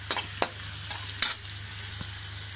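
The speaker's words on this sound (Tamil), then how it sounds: "தக்காளி வதங்கட்டும்." Tomatoes sauté in a pan for vegetable egg Maggi, giving a soft, steady sizzle broken by a few sharp spoon clinks and scrapes from stirring.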